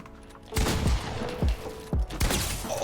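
Gunfire is traded in a first-person shooter video game: several sharp, loud shots ring out in quick succession, each followed by a brief decaying boom, heard alone without talk.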